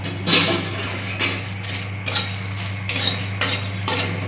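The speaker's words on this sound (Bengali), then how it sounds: "আমি শুকনো খোলাতে এই মশলাটা একটু ভেজে নিচ্ছি" Garam masala spices dry-roast in a hot, empty kadai for vegetarian ghugni. A spatula scrapes and clinks against the metal in regular strokes about every second over a low steady hum, with no voices.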